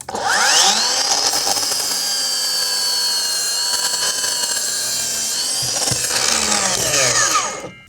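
A power saw fitted with a deck-builder's blade makes a 45-degree cut through dry pressure-treated hemlock: a loud, sustained high whine that spins up, holds steady for several seconds under load, then winds down, with no talking.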